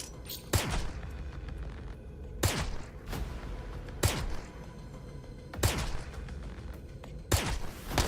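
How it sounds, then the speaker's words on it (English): Loud video game gunfire from a railgun secondary weapon in a first-person shooter: about five sharp, booming shots spaced irregularly a second or two apart, each with a brief ringing tail, over steady game background. "You'd think a railgun would be slightly better than that, whatever that was"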